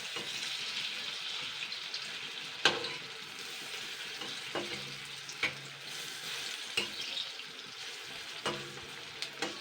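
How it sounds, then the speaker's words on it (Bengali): Cucumber fritters frying in oil over a medium flame, a steady close sizzle broken by occasional scraping and clinks as they are turned in the pan. "এগুলো কিন্তু মিডিয়াম আঁচে ভেজে নেবেন, নাহলে কিন্তু পুড়ে যাবে"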